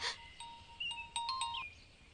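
A mobile phone ringtone plays a short melodic sequence of bright electronic tones, fairly faint and alone, with no talking.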